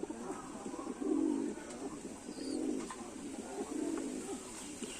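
Male pigeons, bar-tailed domestic birds, coo in low repeated throaty swells, three rounded bursts over steady outdoor background hiss, with faint chirps higher up.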